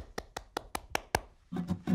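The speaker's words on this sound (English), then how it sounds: "I'm clapping my hands." A single person claps hands six times in a steady, even rhythm, each clap crisp and close, before a short burst of voiced sound at the end.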